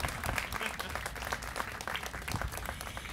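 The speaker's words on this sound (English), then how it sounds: "You can applaud that, I agree." Audience applauding at a groundbreaking ceremony for the Bayview Opera House renovation, a dense burst of many hands clapping throughout, fairly close and sustained.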